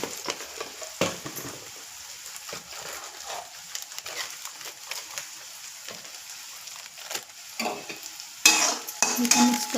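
Potato and capsicum curry stirred in a frying pan, a soft ongoing sizzle broken by scraping strokes of a spatula, with a louder burst of sizzling and clatter near the end.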